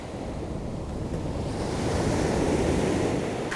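Stormy surf crashes steadily onto an open beach during coastal fishing, a loud continuous roar of breaking waves with gusty wind buffeting the microphone and no voices.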